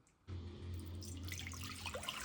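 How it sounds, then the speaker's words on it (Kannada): Water pours steadily from a tap to wash an apple, starting after a brief quiet moment and running continuously as a close, even splashing with no talking. "ನೀರು ಹಾಕ್ತಾ ಇದ್ದೇನೆ ನಾನು ಆ್ಯಪಲ್ ವಾಶ್ ಮಾಡಲಿಕ್ಕೋಸ್ಕರ"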